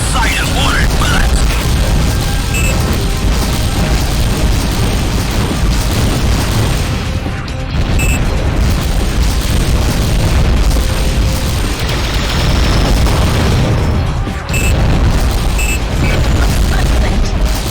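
Heavy underwater explosions from the AquaNox submarine combat game, with deep booms and bursts rolling almost continuously over a dense rumbling bed, briefly dipping near eight and fourteen seconds before swelling again; a voice may talk faintly underneath.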